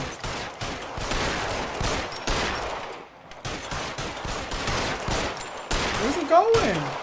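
Rapid gunfire from a shootout in the video game LA Noire Remastered, played on Xbox Series X: dense, repeated sharp bursts crack steadily across the stretch, with a voice briefly breaking in near the end.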